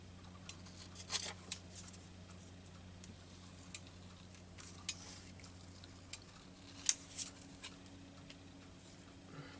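Scissors snip through paper repeatedly in short, irregular bursts, close by, over a faint steady electrical hum.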